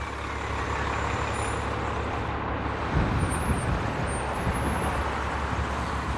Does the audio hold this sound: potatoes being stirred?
no